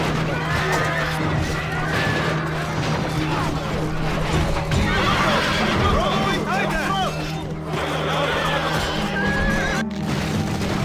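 Horses whinny and neigh repeatedly amid a battle in Rome Total War, loud and close, with clip-clop hooves, crowd babble and crashes running continuously underneath.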